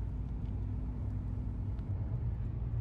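A BMW cruises on the highway, heard from inside as a steady low road rumble and engine drone with faint tyre noise, unchanging over a few seconds.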